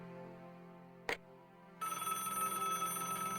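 A telephone rings in the game Broken Sword: Shadow of the Templars Director's Cut. A soft tonal background is broken by a sharp click, then a steady electronic ring starts and keeps going.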